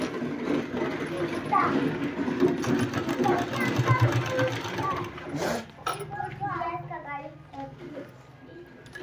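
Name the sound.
sewing machine stitching a palazzo pant design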